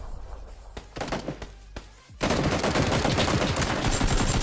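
Gunfire in the PUBG video game: a few sharp separate shots, then a sudden loud, dense stretch of rapid automatic fire that keeps going to the end.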